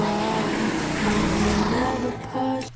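A car engine roars close by with a racing, revving quality, dipping briefly before surging again near the end.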